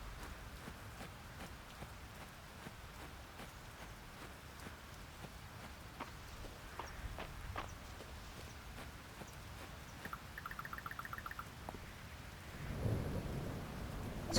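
Steady rain with distant thunder in the farming game Fields of Mistria, a soft continuous patter with a low rumble building near the end, faint and unbroken by speech.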